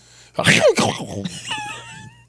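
A person coughs and sputters harshly, a short choking burst followed by a strained, wheezy breath.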